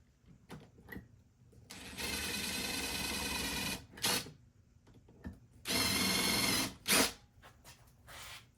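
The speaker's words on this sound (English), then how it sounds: "this drill bit, it has a spring in it. And as you go down, it makes a pilot hole." A drill with a spring-loaded bit bores pilot holes in a cabinet, sounding as two sustained whirring bursts of about two seconds each, separated by short clicks and handling knocks in a quiet room.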